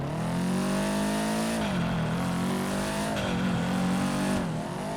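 A Subaru WRX STI in GTA 5 drives past a parking garage, its boxer engine droning loudly and steadily with rising and falling revs across several gear changes, alone with no talk.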